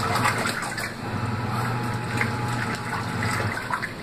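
A mini automatic washing machine fills with more water, giving a steady, close rushing and gurgling flow with a low pump hum throughout.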